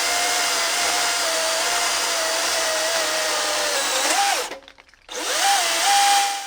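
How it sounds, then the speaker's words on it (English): A DeWalt DCM575N 54/60V cordless chainsaw whines at steady high speed while cutting through a 180 mm tree trunk, its pitch dropping briefly, cutting out for a moment, then revving back up. "It's truly impressive how well the chainsaw performs here."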